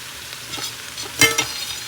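Broad beans and papaya frying in a pan: a low, close sizzle with a brief sharper burst of crackling and stirring at one point.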